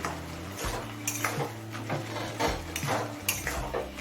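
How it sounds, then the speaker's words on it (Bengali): A utensil stirs boiled ivy gourd in a pan on a high gas flame, with repeated metallic clinks and scrapes against the pan over a soft background hiss. "এখন গ্যাসের ফ্লেমটা হাইতে করে দিয়ে কুচিটা একটু নেড়ে নেবো"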